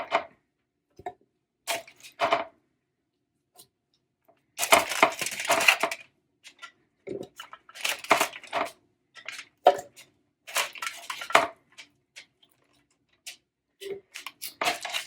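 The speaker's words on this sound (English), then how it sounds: "I am going to use tongs to put the tomatoes and everything in the blender and mix it." Tomatoes go into a blender with tongs, giving scattered close clacks, soft thuds and short rustling bursts with quiet gaps between them.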